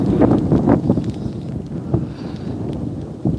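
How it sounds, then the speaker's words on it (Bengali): Strong wind blowing outdoors on an evening near a university campus in Jiangsu, China, roaring steadily into the microphone as close, loud buffeting rumble with gusty swells and no clear speech. "প্রচুর বাতাস হচ্ছে এখন"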